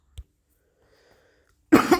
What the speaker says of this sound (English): That was actually a real cough, by the way.